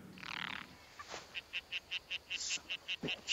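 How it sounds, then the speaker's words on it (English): A tree frog gives a run of evenly spaced, high chirping croaks, about a dozen in steady rhythm, faint and somewhat distant against quiet background. "Shut that frog up, whatever it is. Just a tree frog."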